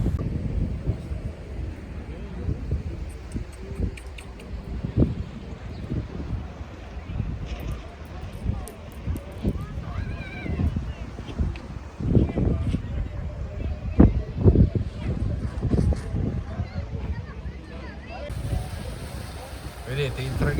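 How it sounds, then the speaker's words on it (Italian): Wind roars and thumps against the microphone continuously on Lanzarote near Playa Blanca, rising in heavier gusts, while a person talks underneath the buffeting. "tanto col vento non si sarà capito nulla"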